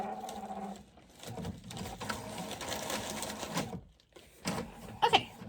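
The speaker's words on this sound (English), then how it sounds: "So it's printing." Printer printing an eBay shipping label, a close mechanical whirring and rattling with rhythmic feed bursts, a brief pause, then a few clicks and clunks at the end.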